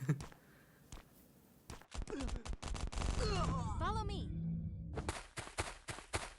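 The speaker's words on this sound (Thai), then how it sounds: "ข้างหน้ามีเสียงปืนกลครับ" Machine-gun bursts ring out in the survival video game Last Island of Survival, rapid sharp cracks at the start and a fast volley near the end, with someone talking over the middle stretch.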